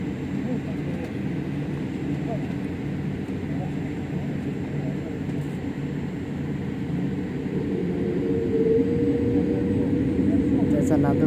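Cabin of a Polish Airlines plane accelerating down the runway for takeoff at Delhi Airport: a loud, continuous engine roar and rumble that builds in intensity toward the end, with people talking faintly under it.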